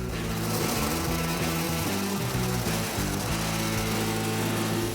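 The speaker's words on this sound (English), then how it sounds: "I'll replicate the template onto some 18 gauge steel and cut it out." A power tool cuts through a piece of 18 gauge steel during a hot rod build of a 1949 Ford sedan, a steady loud mechanical whine and buzz running without pause, no voices.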